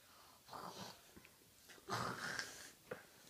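A person imitating a sleepy elephant with soft wheezy snorts and breathy nasal sounds in a few short bursts, faint and close.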